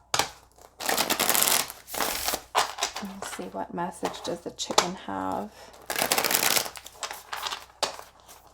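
Tarot cards are shuffled by hand in repeated papery riffling bursts, close and crisp, with someone talking in between.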